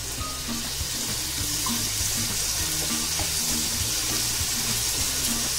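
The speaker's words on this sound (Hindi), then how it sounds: "मेरे पास Luke warm water half cup है इसे ऐड कर देते हैं" Half a cup of lukewarm water poured into a simmering tomato puree masala for egg curry on a low flame, giving a steady close watery rush and sizzle that runs continuously with no talking.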